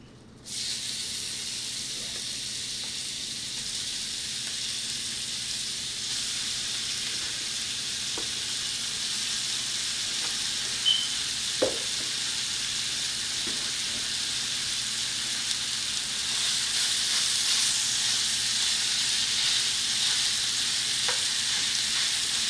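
Ground meat sizzles steadily as it browns in a pan for stuffed bell peppers, a continuous bright hiss that builds slightly louder toward the end, with a few soft stirring clicks and no talking.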